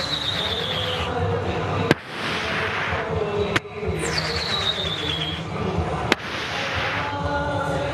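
A mimicry performer vocally imitates firecrackers on stage, with hissing whistles and a falling squeal broken by three sharp, loud bangs spread across the stretch.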